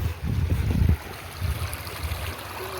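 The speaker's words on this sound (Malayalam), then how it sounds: "പിന്നെ വെള്ളത്തിൻ്റെ സൗണ്ടാണ് പോണത്" A river flows past a village as a steady, soft rushing wash, with a brief gusty rumble near the start and then an even, moderate flow and no voices.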